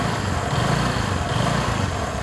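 A Vespa ET4 scooter engine buzzes loudly and steadily, its pitch lifting briefly in a couple of short rises.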